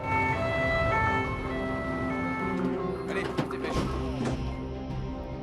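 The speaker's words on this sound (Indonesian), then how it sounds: "ia tetap memaksa Malcolm untuk segera dibawa ke rumah sakit dengan sebuah ambulan." An ambulance siren wails in steady rising and falling tones, then fades under clattering noises and engine rumble in a film action scene.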